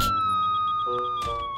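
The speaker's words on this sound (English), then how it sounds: "Paul, is your siren broken?" A steady, cartoonish emergency-vehicle siren from the Super Wings cartoon, broken, holding a single pitch and slowly dropping, with a couple of brief clunks and rattles partway through.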